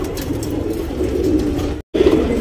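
A tournament racing pigeon coos in low, rolling tones, the soft murmur continuing nearly without pause apart from a brief dropout near the end.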